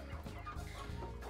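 Chickens cluck softly and steadily, several low murmuring calls overlapping at a faint, close distance.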